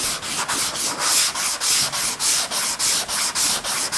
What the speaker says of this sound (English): we're into about probably a total of 30 seconds of sanding so far